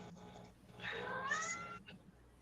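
A house cat gives a single drawn-out meow, rising then falling, close by in a quiet indoor room with low background hum.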